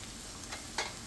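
Taro and eggplant dry sabzi cooks over a high flame, a close, steady sizzle with a couple of brief scraping stirs.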